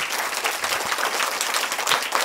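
Children and an audience applaud at a school closing ceremony, a dense, steady burst of clapping filling the space throughout.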